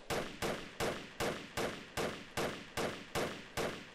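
Suppressing gunfire in the video game Project Reality: nine evenly spaced, sharp rifle shots crack out about every half second, each cutting off with a short decaying tail, fairly quiet and with no talking.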